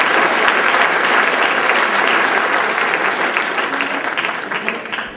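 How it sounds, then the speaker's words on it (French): A large audience at an event applauds loudly and continuously, a dense wash of clapping that tapers slightly toward the end. "Bonne main d'applaudissement."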